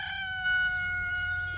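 A rooster in a backyard chicken setting crows nearby, one sustained, strained, tonal call held for over a second, clear and fairly loud with no talk over it.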